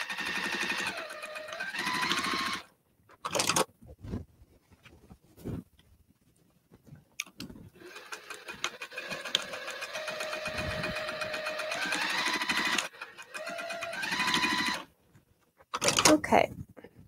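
A sewing machine stitches a drawstring bag in several loud mechanical runs separated by quiet pauses and handling noises, with a faint whirring hum during each burst.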